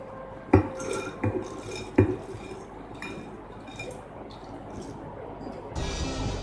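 Peanuts dropped into a mixer grinder jar for homemade crunchy peanut butter: three sharp rattling clinks in quick succession near the start, followed by soft shuffling handling and a brief scrape at the end.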